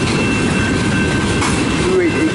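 CN freight train locomotive 2914, with distributed power unit 2887, rolls out of the St. Clair Tunnel in a loud, close, continuous rumble of wheels and cars, with a brief wheel squeal near the end.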